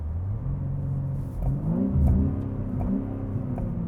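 A 2025 BMW M3 with a manual gearbox blips its engine during a rev-matched downshift, a moderate mid-pitched rise and fall of revs heard from inside the car with no talking.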